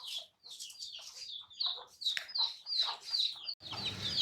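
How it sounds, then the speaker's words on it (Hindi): Busy clucking and chirping from a black Aseel hen and her chicks, close by, with overlapping high peeps running continuously and a brief break near the end. "ये मेरी काली असील मुर्गी है और ये इसके साथ इसके चूज़े हैं"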